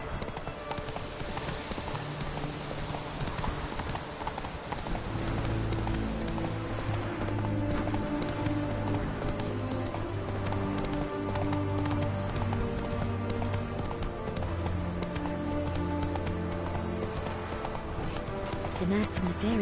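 Roach, Geralt's horse in The Witcher 3 on PS4, gallops with a steady, close rhythm of hoof clip-clops over layered game music, with talk heard alongside.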